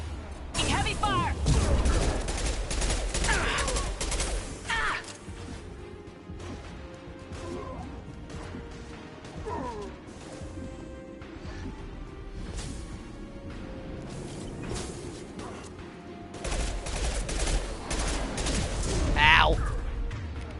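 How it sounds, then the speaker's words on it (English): Heavy gunfire from the Mass Effect 2 video game, with dense rattling bursts and impacts crowding the opening seconds and returning loudly near the end, while voices sound over a rumbling battle backdrop. "Heavy fire."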